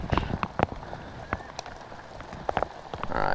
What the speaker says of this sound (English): This rain's legit. It's about to get here.